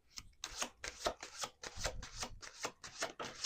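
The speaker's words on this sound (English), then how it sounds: "Let's do one more shuffle." Tarot cards riffled and shuffled by hand in a run of about nine quick, crisp bursts with short gaps between them, close up and alone with no voices.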